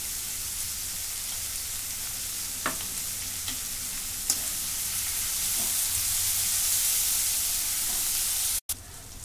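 Finely chopped curry leaves frying with ginger-garlic paste in a pan for a bitter gourd dish, a steady close sizzle with a few soft stirring scrapes.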